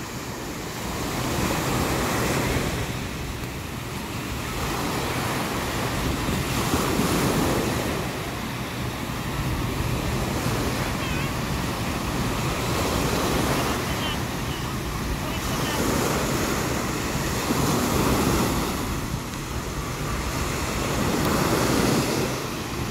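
Waves roll onto a white-sand Gulf of Mexico beach in Florida, a loud, steady wash of surf swelling and receding in slow cycles, with heavy wind rumble on the microphone.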